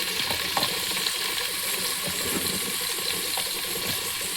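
Sliced onions fry in a little oil in a kadai alongside cardamom and cloves, with a dense, steady sizzle and faint spatula stirring close by.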